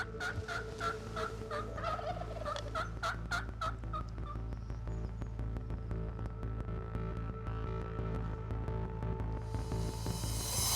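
A wild turkey gobbles in a rapid burst of rolling calls, loud and fairly close, followed by quieter outdoor ambience with no talking.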